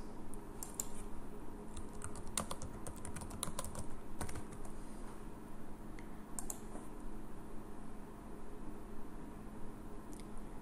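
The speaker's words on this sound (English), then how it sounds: "You may also locate films by typing a keyword into the search box." Someone types a search keyword on a computer keyboard, producing quick bursts of soft key clicks that come in irregular clusters and then fade to a faint background hum.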